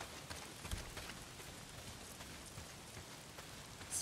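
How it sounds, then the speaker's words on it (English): Steady rain pours down in the open-world zombie game Days Gone, a dense, even hiss of falling drops with a few faint footfall-like thumps scattered underneath, no voices. "Not if it's pissing down rain"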